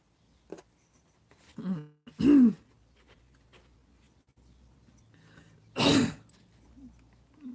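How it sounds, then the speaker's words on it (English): An adult coughing and spluttering indoors: a couple of sharp, loud coughs several seconds apart, with small throat noises and faint rustling in between, close to the listener. "I do apologise for my coughing and spluttering."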